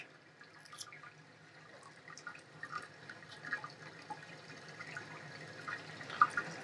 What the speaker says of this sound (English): This bottle is rated for over 100 gallons, and so should do pretty well if we add the whole bottle to the tank